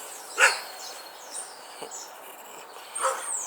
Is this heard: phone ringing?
no